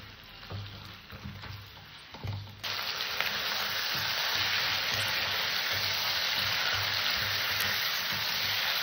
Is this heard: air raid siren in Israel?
no